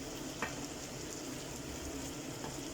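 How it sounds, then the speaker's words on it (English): Potatoes go into a simmering pork and chorizo stew, giving a soft, continuous sizzle and bubbling with a couple of light clicks from the pan, steady and close throughout. "I will add my potatoes in."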